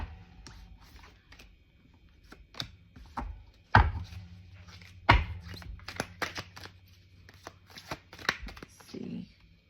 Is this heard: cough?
no